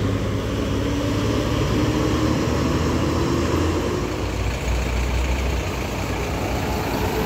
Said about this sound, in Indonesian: Disusul bus PPP Dewa Rungrung atau Dewa Rengku.